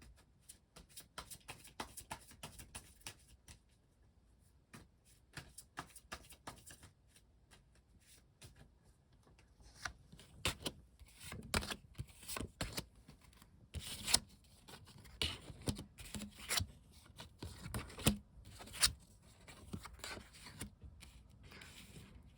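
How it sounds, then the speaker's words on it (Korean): Tarot cards are shuffled and drawn by hand in a quiet room: a long run of soft, papery riffles and rubs, then sharper card slaps and flicks near the end, fairly faint throughout with no talking. "한번 카드를 뽑아보도록 하겠습니다"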